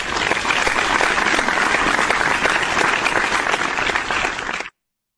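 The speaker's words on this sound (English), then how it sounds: "he needs a big round of applause" An audience at a college arts ceremony gives a steady, full round of applause for an honoured guest, dense and even for several seconds before cutting off abruptly.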